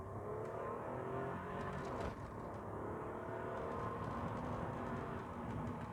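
A 1993 Rover 827Si accelerating hard during an acceleration test, heard from inside the cabin as a steady, loud engine roar with road and wind noise, continuous and unbroken for the whole stretch, with no voices over it.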